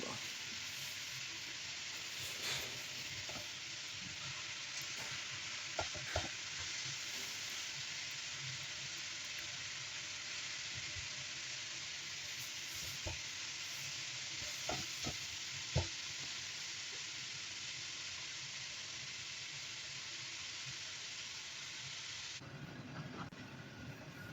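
Pork belly fries in a wok over low heat with a steady, dense sizzle that runs unbroken, marked by occasional clicks and scrapes of stirring. The sizzle eases slightly near the end.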